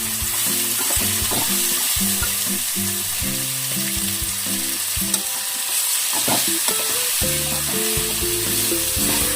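Half a kilo of chicken frying in a pan with ginger garlic paste, stirred steadily, with repeated scraping strokes over a loud continuous sizzle and no talking.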